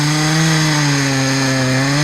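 A newly bought chainsaw runs steadily on its own at close range, a loud, even engine drone with strong harmonics holding throughout without any cutting bursts.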